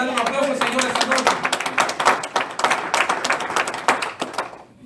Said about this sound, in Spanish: ¿Cuántos pueden darle un aplauso al Señor esta noche?